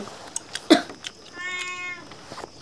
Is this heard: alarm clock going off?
no